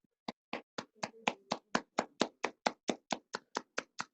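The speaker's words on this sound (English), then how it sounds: "We'll keep on clapping." Rhythmic, evenly spaced clapping greets a singer as she arrives on a bar-stool talk show: about seventeen sharp claps in a steady beat, close and clear, with a faint murmur beneath.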